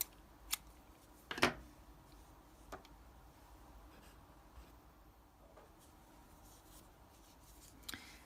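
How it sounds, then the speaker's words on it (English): Scissors snip yarn at the end of a crochet round, giving a short crisp cut with small clicks nearby, very quiet against a faint room background. "we can cut that yarn"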